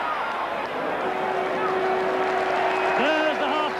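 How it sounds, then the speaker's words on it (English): Rugby league stadium crowd at a St Helens versus Leeds match, a loud roaring, screaming mass of spectators filling the whole stretch while a commentator talks over it. "St Helens crowd there screaming that Mike O'Neill was interfering there with Cooper."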